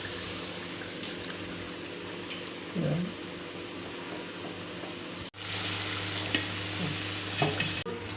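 Batata vadas for vada pav deep-frying in hot oil, a steady close sizzle and bubble running throughout, with a brief gap midway before the frying noise resumes slightly louder.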